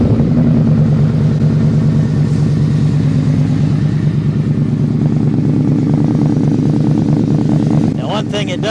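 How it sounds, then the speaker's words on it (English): A cold V4 motorcycle engine idles close by with a steady, deep throbbing burble that holds for several seconds before a voice breaks in near the end. "Great sounding bike, V4."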